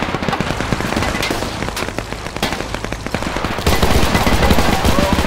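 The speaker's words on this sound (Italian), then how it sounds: "Allora c'è una mitragliatrice." Machine guns and other gunfire in the war video game Men of War II crackle in dense, rapid overlapping bursts, loud and continuous, with the volume stepping up near the end.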